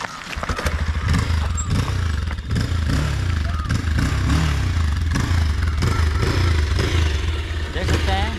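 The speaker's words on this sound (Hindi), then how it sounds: "देख सकते हैं बाइक जो है हमारा स्टार्ट हो चुका है" A Bajaj Pulsar 220F BS6 motorcycle with a flat battery catches after a push start, its engine clattering and revving loudly up close with uneven throttle bursts.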